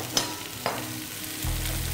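Onions, celery and carrots hitting a hot pan, two quick clatters of vegetables dropping in, then a low fry that swells into a loud, steady sizzle near the end.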